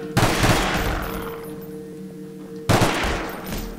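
Bursts of rapid gunfire in Garry's Mod, on a zombie tunnel map. One loud rattling volley fades out, then a second burst starts a couple of seconds later.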